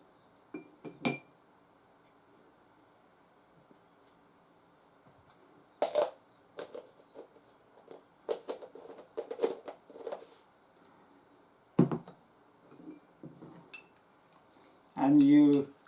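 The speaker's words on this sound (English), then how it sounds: "You mix the natto and okra well" Intermittent clinks and taps of a utensil against a bowl while natto and okra are mixed, sparse scattered strikes with quiet gaps between and a louder burst of scraping near the end, a voice briefly heard at times.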